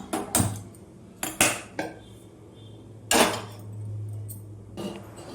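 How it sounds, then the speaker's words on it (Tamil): A metal cooking pan is set on a stove, clanking and clattering in several sharp knocks, close by, followed by a low steady hum. "ஸ்டவ் ஆன் பண்ணி பாத்திரம் வச்சுக்கலாம்"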